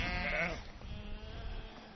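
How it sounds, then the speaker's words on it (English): An injured sheep with a broken leg, carried on a mountain crossing, gives one clear bleat at the start, then quieter breathy sounds follow. "a sheep fell down a cliff and broke its leg"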